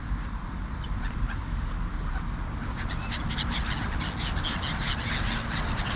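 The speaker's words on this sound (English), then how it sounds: "But there are little crows in there" A large mixed flock of crows and gulls calls continuously in a dense, loud chorus of overlapping caws and cries, with no voices over it.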